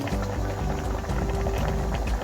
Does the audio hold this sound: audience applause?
no